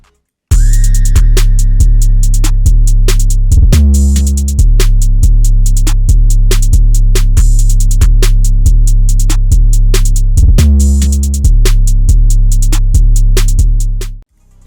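A full trap drum pattern built from the Trinity kit by Dinox and Synthetic pounds along in a loud, steady groove with booming deep 808 bass, crisp rapid hi-hat rolls and snappy snares, briefly dropping out near the middle.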